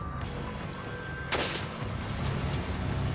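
A single loud rifle shot cracks out in the Resident Evil 5 video game, a sharp burst rising over a low rumbling game soundtrack that swells afterward.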